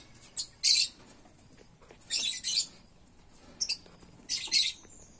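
Lutino lovebird chicks in a nest being fed by a parent, giving short bursts of shrill, squeaky chirping in four clusters separated by quiet pauses, close by and fairly faint.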